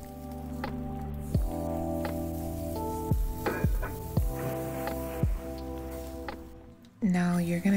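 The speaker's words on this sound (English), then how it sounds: "go ahead and sear it in some olive oil in a preheated pan" Chicken searing in olive oil in a preheated pan, a steady close sizzle with occasional stirring scrapes, running beneath a person talking throughout.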